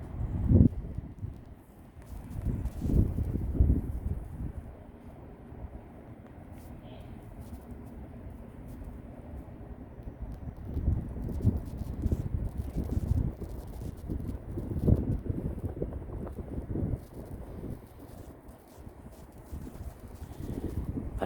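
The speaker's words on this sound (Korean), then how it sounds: "그런데 오늘도 여전히 바람이 세게 붑니다." Strong wind blows outdoors, a steady low rumbling buffet against the microphone with gusts swelling and easing across the stretch, joined by rustling and scattered knocks.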